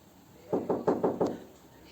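Knocking on a house door, five evenly spaced raps in a quick row, clear and moderately close, with a faint background hum and no voices.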